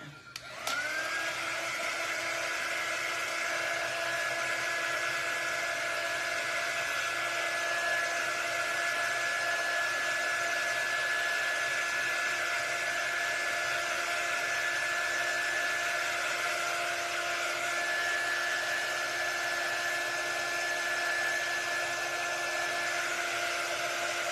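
A hair dryer blows on a spooky mummy craft door hanger, switching on abruptly and then holding a loud, steady whining roar that stays constant for over twenty seconds with no speech.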